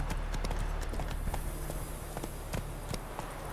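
Hooves of the horse Roach clip-clop in a steady galloping rhythm in The Witcher 3: Wild Hunt, close and continuous over a low game ambience.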